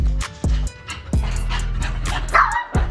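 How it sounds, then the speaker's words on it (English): Two small toy dogs bark in a string of sharp, high yips close by, with whimpering in between. "That's the two little toy dogs."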